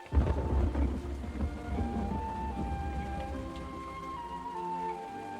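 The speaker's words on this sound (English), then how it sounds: "It has been raining solidly for a week." Heavy rain with a deep rumble of thunder that booms loudest at the start and rolls on under the steady downpour, with some tonal music layered over the storm and no talking.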